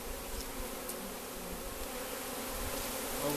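A swarm of honeybees buzzes in a dense, continuous drone that stays steady and close throughout, with no voices over it.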